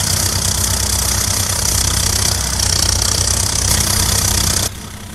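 Simulated Swaraj 855 tractor engine running in Farming Simulator 22, a loud, steady diesel chug with a dense rhythmic rumble that drops abruptly in level near the end, with no talking.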